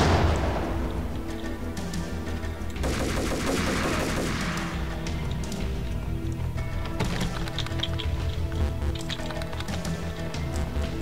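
Sustained gunfire and grenade blasts from the video game Max Payne, dense and loud throughout with stacked shots and booming bursts, no talk.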